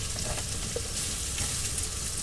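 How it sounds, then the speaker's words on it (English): Garlic frying in a pan with fried onions and peppers and oil in a tiny kitchen, a continuous close sizzle and crackle with faint stirring. "So I am putting the garlic in with the onion and peppers."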